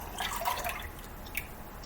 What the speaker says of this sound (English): I'm going to fill this to the top with water and then put that in the bowl as well